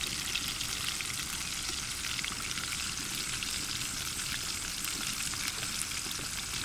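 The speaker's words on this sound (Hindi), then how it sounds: "इनको हल्की हल्की आंच के ऊपर आपने पकाना है और इनकी साइडें तब्दील करते रहना है" Chicken wings for crispy KFC-style fried chicken cooking over low heat in oil, a close, even, continuous crackling sizzle with no pauses and no voices.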